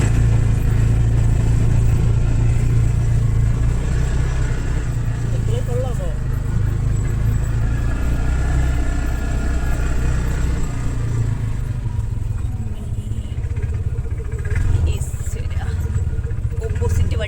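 A buggy's engine drones loudly and steadily throughout a bumpy ride through a Mauritius park, with rattling and clatter over the low rumble, and voices talking over it.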